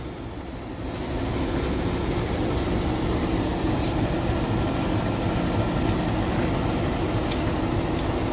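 A long train pulled by a double locomotive, CC 206 107, passes beside rice paddies, a steady loud rumble of rolling wagons punctuated by regular sharp clacks of wheels over rail joints.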